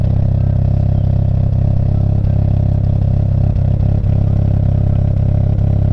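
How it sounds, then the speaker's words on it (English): A Toyota 3SGE engine fitted with Kelford 262° cams idles with a loud, steady exhaust rumble, slightly lumpy and uneven, running continuously and close up. "you can hear that the exhaust is actually a fair bit louder, more defined, more crisp than what it was before"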